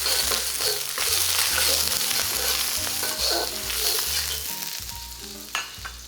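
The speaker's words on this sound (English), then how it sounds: "vegetable oil in here. Then I'm gonna add our garlic." Garlic sizzling in vegetable oil in a pan, a steady loud frying hiss under faint background music, with a sharp clink near the end.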